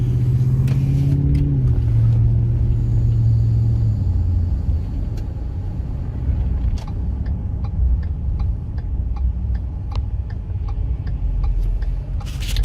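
A 2010 Ford F-150 Lariat pickup idles and rumbles steadily, a low engine tone shifting early on, with a regular ticking like a turn signal clicking alone over the hum.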